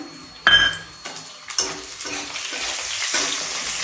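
Finely chopped capsicum and green chilies frying in a pan for paneer majestic, opening with a loud burst of sizzle as they land, then steady frying broken by several clinks and scrapes of a spatula stirring.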